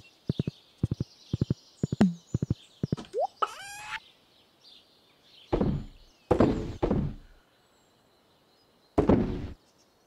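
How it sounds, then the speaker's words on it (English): Horse hooves clip-clopping in the Stardew Valley video game: quick paired hoof knocks in a steady rhythm, then a rising chime and a few heavier thuds, with bird-like clucks and quiet gaps between. "Your loyal horse patiently waits for your return."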